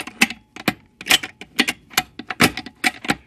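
A Prelude manual transmission fitted with an Mfactory limited-slip differential is shifted through its gears on the bench, producing a quick series of about a dozen sharp, close metallic clicks and clacks in an uneven rhythm, with no voices.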